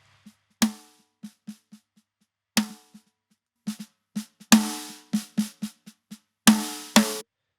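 Prog-style drum kit without parallel compression: a sparse kick, snare and tom groove with occasional cymbal crashes, quieter and drier, each hit decaying quickly into near silence.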